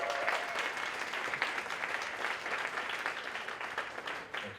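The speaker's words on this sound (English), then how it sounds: "So clap your hands for them." Audience applause at a songwriter awards show, a sustained wash of clapping from a crowd, fairly distant and even throughout with no break.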